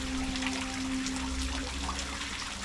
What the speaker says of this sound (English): that's the water thing I was hearing.